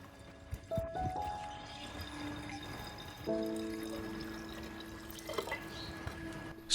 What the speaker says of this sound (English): Pour 500 milliliters of water.